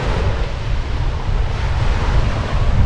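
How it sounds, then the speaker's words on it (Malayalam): Waves break on the sandy shore of Lac La Biche in Alberta while strong wind buffets the microphone, a loud continuous roar of surf and gusts with no voices. "ഇത്രയും മണലും ഉണ്ടല്ലേ നല്ല നല്ല തിരയും ഇത്രയും കാറ്റടിക്കുമ്പോ"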